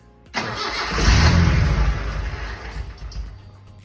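A turbocharged Isuzu Gemini with a freshly swapped engine cranks briefly, then fires and catches with a loud close rumble, revving up and settling toward a rough idle.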